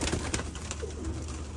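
Pigeons in a loft cooing close by, with soft, low, repeated throaty coos overlapping in short bursts over a steady background hum, with no talk.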